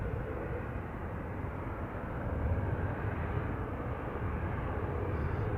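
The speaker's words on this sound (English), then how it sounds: "Just arriving, we've got a Ryanair 737-800 arriving from Katowice." A Ryanair Boeing 737-800 arriving from Katowice at Manchester Airport gives a faint, steady, distant rumble of engine noise that holds without a break.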